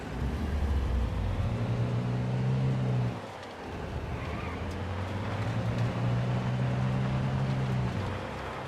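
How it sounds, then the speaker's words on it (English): Car engine in the video game Sniper Ghost Warrior 3 droning steadily, with a low rumble that dips briefly midway before resuming, close and continuous. "This one is fairly far away, so we'll jump in the car."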